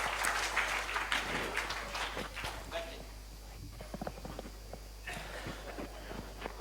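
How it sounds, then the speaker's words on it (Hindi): An audience claps, loud at first and tapering into scattered claps, with voices talking over it. "एक जोरदार तालियों से सम्मान चाहेंगे"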